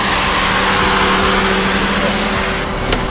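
Radiator cooling fan whirring steadily on an overheated 1994 Opel Vectra A with a 2-litre four-cylinder engine, a loud, constant broadband roar close by with no talk.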